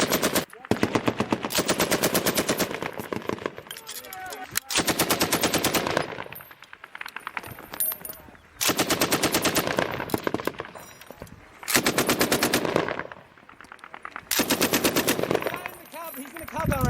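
Marines fire a machine gun during a real firefight, sustained loud bursts of rapid shots lasting a few seconds each, separated by short pauses, close and dominant.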